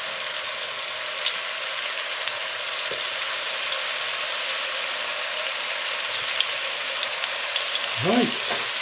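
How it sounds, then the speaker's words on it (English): Food sizzles steadily in a hot pan, a constant crackling hiss close by with occasional pops and a brief clatter near the end. "I can hear a little sizzle there."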